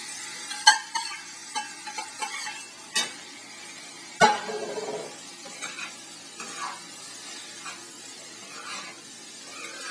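Chopped tomatoes are stirred into masala in a pan, with scattered clinks and scrapes of a spoon against metal and a soft background sizzle, one sharper knock midway.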